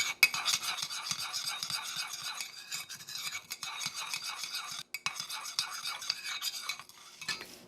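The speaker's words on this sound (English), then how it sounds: "And you're going to stir very well" A spoon stirs white and brown sugar into butter inside a mug, producing rapid, continuous scraping and clinking against the mug walls with a couple of brief pauses, close and alone.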